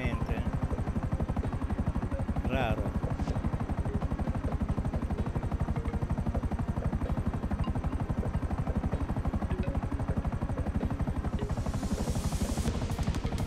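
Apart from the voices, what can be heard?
helicopters in video game GTA 5 Online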